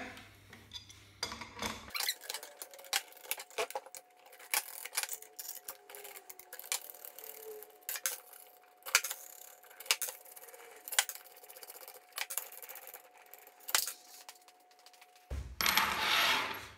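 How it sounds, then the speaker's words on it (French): Metal nuts and threaded rods come off a plate chiller under a ratchet wrench: sparse clinks, taps and metallic clicks, close and fairly quiet, in irregular bursts over a quiet background. "Donc on a enlevé les 6 écrous et les 6 tiges filetées qui comprimaient le refroidisseur à plaque."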